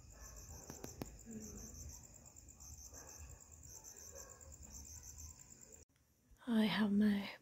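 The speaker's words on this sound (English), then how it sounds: "And the cricket." Crickets chirp at night in a steady, faint, high-pitched trill that runs through most of the stretch, fading out near the end as a louder burst of other noise takes over.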